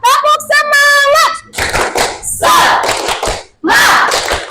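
Children's group clapping chant in an Indonesian junior high classroom: quick bursts of rhythmic hand claps mixed with kids' voices shouting along, with a teacher's voice prompting between phrases.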